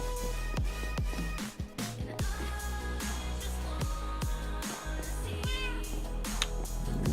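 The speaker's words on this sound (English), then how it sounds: "Meow, says the kitty." A cat in the game Minecraft meowing repeatedly in short calls, heard under game music and background sound.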